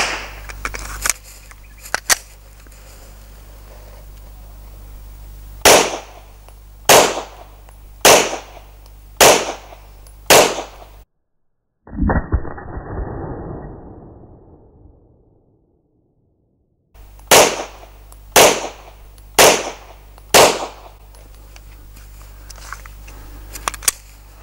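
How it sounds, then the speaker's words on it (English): Pistol shots from a Smith & Wesson M&P 2.0 9mm at a range: sharp single reports fired one by one at an even pace, about a dozen in two strings separated by a quieter pause, with no talking. "just get the pistol out there, just put a couple of rounds through it just to get used to it"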